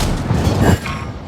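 A single heavy German tank cannon blast booms out in World of Tanks, a deep loud thud that quickly fades.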